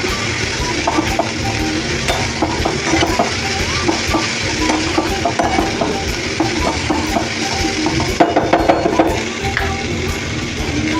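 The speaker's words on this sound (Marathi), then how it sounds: "आता पूर्णपणे आपण ही ढोबळी मिरची कांदा टमॅटो हळद ह्या तीन गोष्टीवर छान परतून घेणार आहे" Capsicum, onion, tomato and turmeric sautéing in oil for a dry bell pepper bhaji, giving a steady close frying hiss broken by frequent stirring and spatula scrapes throughout, with no talking.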